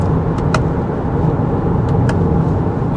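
Interior road and engine noise from a 2024 Kia Sorento hybrid driving after accelerating, a steady loud rumble with tyre roar and a couple of faint clicks.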